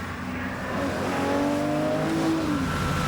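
A Ferrari 250 GTO engine revs and climbs in pitch, the sound swelling from a moderate hum to a loud, rising race-car wail that holds close by.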